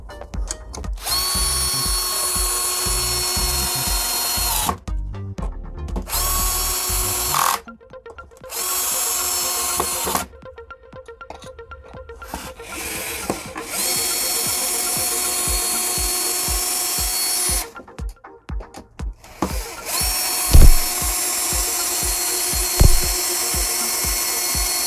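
A cordless screwdriver fitted with an enlarged battery drives screws into wood in repeated loud whirring bursts, each run separated by short silences, with motor whine and rhythmic ratcheting as screws seat, close up.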